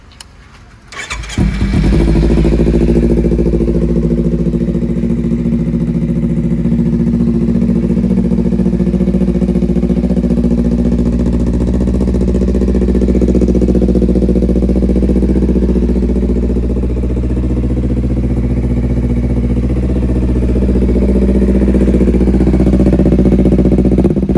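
Kawasaki Ninja 250 from 2013 in the 300 body style, fitted with a loud SC exhaust, cranks and fires up close by, then holds a loud, throaty idle with brief swells of revving.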